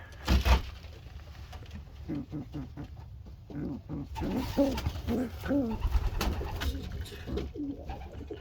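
Young domestic pigeons cooing nearby in repeated soft, throaty bursts, with some rustling and background noise in between.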